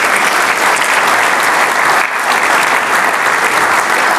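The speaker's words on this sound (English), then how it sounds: "Could you please give them another round of applause?" Loud, dense applause from an audience at a community launch event with a choir, steady and unbroken clapping filling the room throughout.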